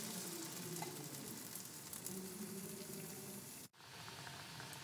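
Jaggery heating with a little water in a pan for jackfruit jam, a steady close sizzling bubble throughout, briefly cut to near silence near the end before resuming.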